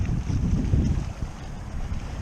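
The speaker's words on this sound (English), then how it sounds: "Hope that wind is not too loud." Wind buffeting the microphone on a fishing boat out on a lake, a continuous low rumbling roar that stays loud and steady throughout, with no voices.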